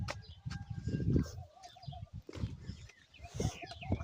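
Chickens in a village yard cluck and murmur close by, a busy run of short calls rising and falling with faint background bird sounds.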